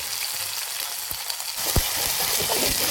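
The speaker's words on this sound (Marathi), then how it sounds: "तेलामध्ये तळायची मिरची।" Chillies frying in hot oil for a spicy bhaji kadhi, giving a steady close sizzle and crackle throughout with a few sharp spatters and pops partway through, no voices.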